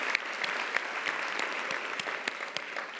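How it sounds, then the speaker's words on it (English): Guests applaud themselves at the 2019 Celebrating Women Breakfast. The clapping is steady and moderately loud, with distinct sharp claps standing out regularly over the dense wash of hands. "Give yourselves some applause because you guys are pretty awesome"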